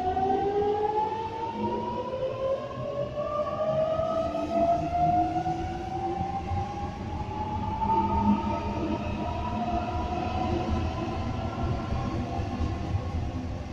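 A Sydney suburban electric train pulls out of Padstow station in the evening peak. A steady rumble sits under rising motor whines that climb in pitch as it accelerates, close and continuous throughout, with no voices.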